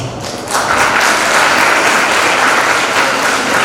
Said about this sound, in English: So I think Madam needs more applause.